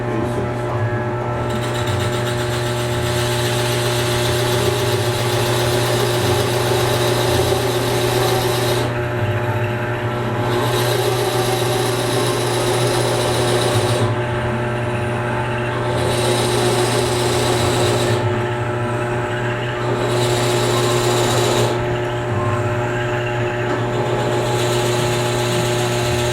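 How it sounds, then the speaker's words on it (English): A power drill bores 7/8-inch holes through triangular cherry wood pieces for drop-leaf table legs, its steady motor whine running close and loud for the whole stretch, broken by several rasping bursts as the bit cuts into the wood. "So drilling the 7/8 inch holes here in the triangular pieces."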